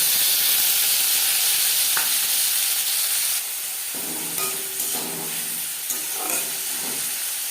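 Carrots fry in refined oil for a paneer roll filling, starting as a loud, bright sizzle. Partway through it drops to a softer hiss under repeated spatula stirs and scrapes, with no voices.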